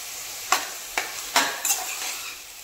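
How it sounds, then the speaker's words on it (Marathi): Finely chopped onion frying in a pan for pav bhaji is stirred with a utensil, giving four or five quick scraping strokes over a soft background sizzle. "आता व्यवस्थित मिक्स करून घेऊया कांदा."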